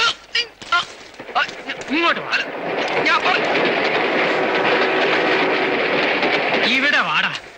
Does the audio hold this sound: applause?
no